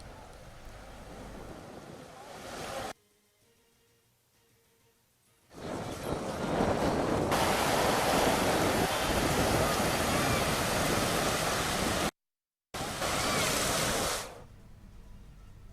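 Floodwater rushes from overflowing streams after heavy rain in Guntur, a loud broadband roar in long surging stretches broken by sudden cuts and quieter gaps.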